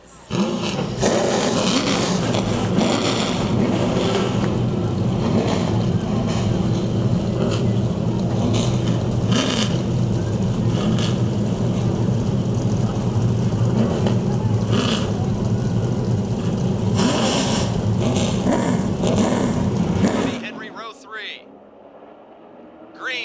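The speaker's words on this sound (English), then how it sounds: "Gentlemen, start your engines." Race car engines fire and rev at the Motordrome Speedway before the Pizza Hut 100, a loud, dense roar of several engines sustained for about twenty seconds and then dropping away, with a crowd or announcer under it.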